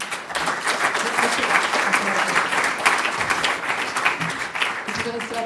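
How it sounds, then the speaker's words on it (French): An audience applauds at the close of a conference talk on neighbourhood energy and carbon, a dense steady clapping from a sizable room throughout, with voices murmuring underneath. "On peut encore vous applaudir."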